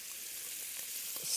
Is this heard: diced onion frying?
yes